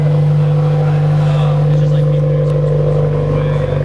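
A deep, steady Subaru WRX engine rumble with a low drone from a newly installed exhaust while driving, loud and close, holding a constant idle-like tone throughout.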